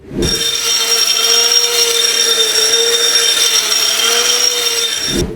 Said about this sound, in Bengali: আমি সবগুলা বেসনই এই এক কেজি ড্রাই গ্রিন্ডারে দিয়ে দিচ্ছি